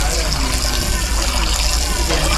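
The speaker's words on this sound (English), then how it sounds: "Get the water in a pot" Water running and pouring into a cooking pot outdoors, a continuous splashing wash throughout with a voice talking underneath.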